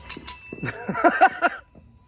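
A small bell on a 20-inch mountain bike dings several times in quick succession, close by, with bright metallic rings that fade into quiet.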